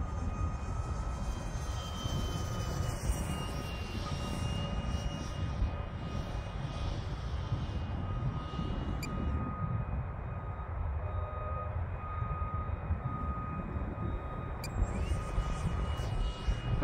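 Freewing MiG-15 64mm EDF RC jet flying outdoors on a windy day, a steady distant ducted-fan whine and rush that holds constant throughout with wind noise underneath.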